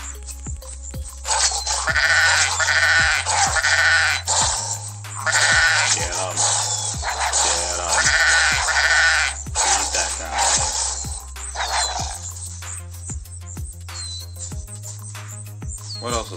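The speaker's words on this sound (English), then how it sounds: "Oh, it's a sheep." Sheep in the video game Wolf Simulator bleat repeatedly, wavering calls rising and falling over several seconds, loud and near over a low droning game soundtrack.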